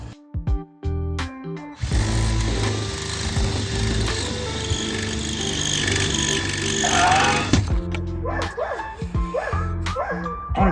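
A power drill runs continuously for several seconds with a steady, loud whine, then stops and is followed by a series of sharp, separate barks from a dog.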